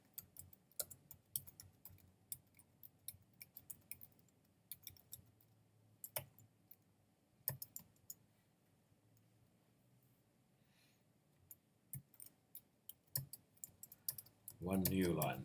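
Someone types code on a computer keyboard in a quiet room, producing sparse, faint key clicks in irregular bursts with pauses, and a louder clatter at the very end.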